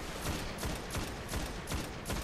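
Rapid gunfire in the video game Destiny: Rise of Iron, a rhythmic series of sharp repeated shots at moderate loudness, with no talking.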